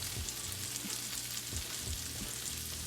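Butter sizzles and fries steadily in a pot for a one-pot garlic butter chicken bites dish, a continuous close crackling hiss with small pops and no talking.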